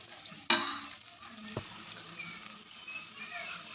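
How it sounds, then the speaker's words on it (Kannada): Chili powder fries in a pan for a fenugreek-leaf sambar, a soft steady sizzle broken by a sharp clatter early on and a brief knock, close and quiet with no one speaking. "ಈಗ ನೋಡಿರಿ ಖಾರ ಚಂದ ಫ್ರೈ ಆಗ್ಯದ್ರಿ"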